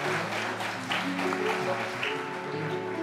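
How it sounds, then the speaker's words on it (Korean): A church congregation claps to bless a kindergarten Sunday school graduate at a graduation service, a steady wash of applause lasting the whole stretch over a faint tonal hum. "자, 우리 박수로 축복하겠습니다"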